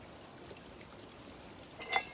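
Water from a farm spring runs on its own without a pump, making a soft, steady, quiet trickling stream with a faint splash near the end.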